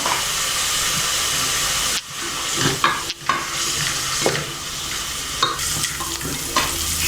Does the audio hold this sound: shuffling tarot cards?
no